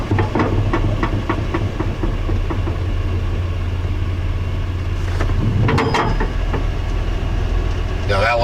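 A Chevrolet C10 stepside truck rolls and brakes, its engine humming low and steady with clicks and a brief clunking noise near the end.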